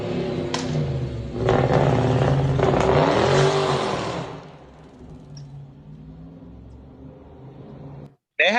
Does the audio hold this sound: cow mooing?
no